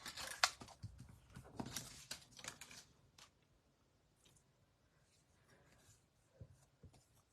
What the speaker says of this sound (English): Then I'm going to just cut out these 2 little carrots.